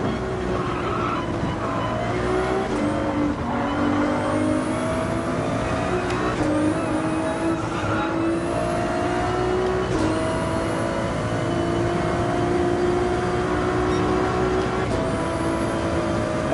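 A car at full throttle in Gran Turismo 7 on a Highway 1 time attack, its engine rising and falling in pitch through repeated gear changes, loud and continuous with faint tyre squeal.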